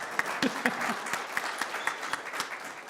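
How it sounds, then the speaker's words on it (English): A church congregation at a Sunday service claps steadily for about three seconds, with many hands at a moderate distance and a few sharper claps standing out. "yes, claps for Betsy as well"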